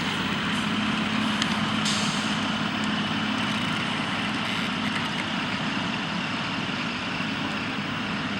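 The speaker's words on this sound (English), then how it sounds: "they're pushing this semi out" A stuck semi truck is pushed out on a farm, giving a loud, steady, broadband engine rumble that continues without a break, with no voices.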